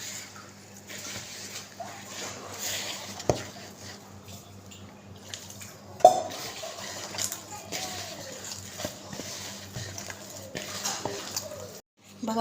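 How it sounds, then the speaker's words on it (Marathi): Gram-flour batter for methi dhapate is stirred with water in a bowl, with scattered wet sloshes, soft clinks and scrapes against a quiet background. "पाणी टाकून कालवून घेणार आहोत, मस्त पातळ करून घेणार आहोत."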